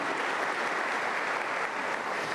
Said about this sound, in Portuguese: E dê um poderoso aplauso para Ele, que é poderoso e digno de glória.